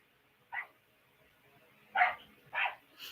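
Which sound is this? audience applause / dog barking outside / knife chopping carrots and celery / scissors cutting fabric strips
dog barking outside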